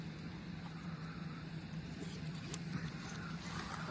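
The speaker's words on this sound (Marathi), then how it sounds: "सगळा पाण्याचा आवाज येतोय" Water pours and rushes steadily from the overflow at Kas lake, a broad, continuous wash of noise that stays constant from start to finish with no voices.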